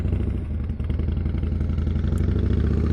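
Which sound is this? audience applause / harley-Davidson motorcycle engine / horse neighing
harley-Davidson motorcycle engine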